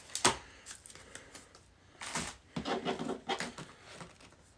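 A tarot card pulled from the deck, with short papery slides and soft taps of cards against each other, faint and close, in a few quick bursts.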